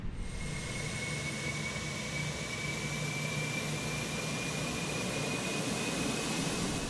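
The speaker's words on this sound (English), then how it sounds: "APU's firing up." Auxiliary power unit of a Fenix A320 spinning up in a flight simulator: a steady turbine whine with a slowly rising high tone over low rumble, moderately loud and continuous.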